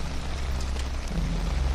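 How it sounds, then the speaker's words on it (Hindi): Heavy rain pours steadily in a dense, even hiss with a low rumbling undertone, close and loud throughout, with no voices. "बारिश तेज हो रही है।"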